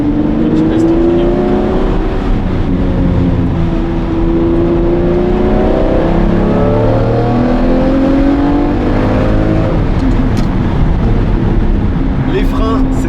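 A manual Lamborghini Murciélago LP-580 V12 revving throughout, with a steady loud engine note rising and falling, close and continuous, with people talking over it.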